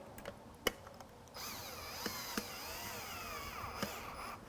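A power drill drives screws through gate control brackets. After a few faint clicks, a quiet whirring motor starts and runs steadily, rising and dipping in pitch, with a couple of small taps over it.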